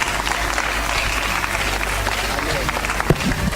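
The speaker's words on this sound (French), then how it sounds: "Applaudis le Seigneur parce que Jésus nous a sauvés" Church congregation applauding during a service, continuous dense clapping with crowd noise that holds steady throughout.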